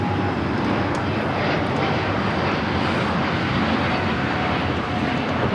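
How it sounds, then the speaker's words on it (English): Delta Airlines Airbus A350-900 taking off from Los Angeles LAX bound for Atlanta, a steady loud jet engine roar with broadband rumble and hiss holding constant throughout, no voices. "446 taking off to Atlanta on the A350-900"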